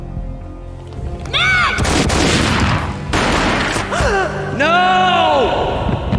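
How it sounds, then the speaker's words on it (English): Gunfire in the video game Max Payne comes as loud, close blasts and booming bursts over a dramatic score, with swooping slowed tones and a voice briefly gasping amid the shots. "A gunshot boomed and she fell down in slow motion."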